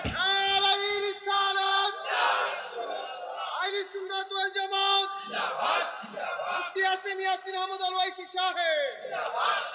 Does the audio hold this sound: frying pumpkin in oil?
no